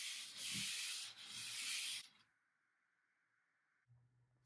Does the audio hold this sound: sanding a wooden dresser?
yes